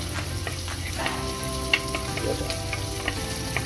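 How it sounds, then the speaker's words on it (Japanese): Chopped bacon and onion sizzle and crackle in hot oil in a pan, a steady close frying hiss dotted with small pops and stirring scrapes, while a voice briefly grunts over it. "油が温まるまで切ったベーコンと玉ねぎを炒めます"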